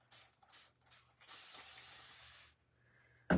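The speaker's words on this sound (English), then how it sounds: "I'm going to spray it again." Several short hissing sprays from a spray bottle, the first few quick bursts, then a longer spray, ending with a sharp click.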